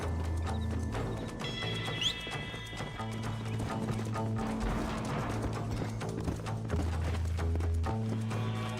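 Horse hooves clip-clop steadily in the Red Dead Redemption video game, a continuous trotting rhythm under looping low music tones, with a brief whinny-like sweep early on.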